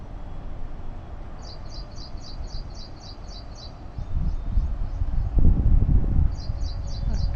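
A small bird in a garden repeats quick series of high, thin chirps, a rapid burst followed by a pause and another short run, at moderate distance over soft outdoor rustling and a low rumble.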